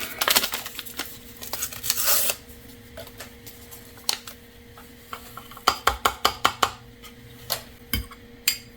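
A spoon stirring non-dairy creamer into a cup of weak coffee, giving a run of quick light clinks and taps against the cup, loudest in a rapid cluster near the end, close up with no talking.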